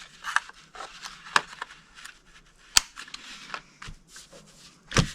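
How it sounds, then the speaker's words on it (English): A handheld corner rounder punch clips the corners of cardstock for a party treat box, giving a few sharp, separate snaps spaced a second or so apart, close and fairly loud over a quiet room, no one speaking. "I'm going to take a corner rounder and round these corners at that end"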